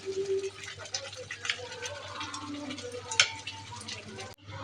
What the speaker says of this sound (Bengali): মাংসগুলো দিয়ে এখন আমি কষিয়ে নেব।